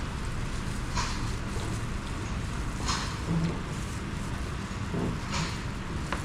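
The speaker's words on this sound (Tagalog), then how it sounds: "Yung ulan sa labas, ito niyo po yung ulan." Steady rain falls outside in the Philippines, an even hiss with scattered drips and patters running throughout, fairly close and constant, with no talk over it.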